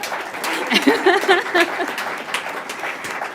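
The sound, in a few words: audience applause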